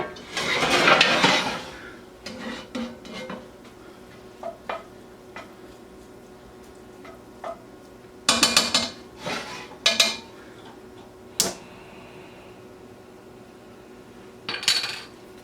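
Potatoes for Texas hash fry in a pan as a utensil stirs and scrapes them, a loud burst of clattering followed by scattered metallic knocks over a faint sizzle.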